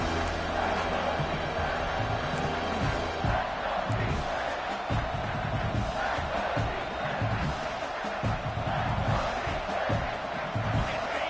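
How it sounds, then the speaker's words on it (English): A packed football stadium crowd roars for the home defense on a big third down in the red zone against Michigan, a dense, steady wall of cheering and shouting that stays loud throughout. "this crowd is getting behind this defense"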